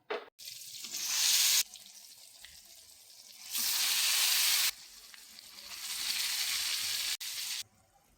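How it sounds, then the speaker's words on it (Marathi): Maswadi pieces dropped into hot oil, giving loud hissing sizzle bursts that swell and fade several times, with quieter bubbling between them and no talking. "काही वड्या याच्यात बुडून घ्यायच्या अशा आणि तेलामध्ये सोडायच्या."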